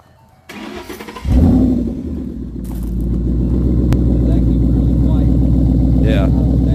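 A Ford Mustang's engine cranks and catches with a loud roar, then settles into a deep, throbbing, rumbling idle through its exhaust, close and loud throughout.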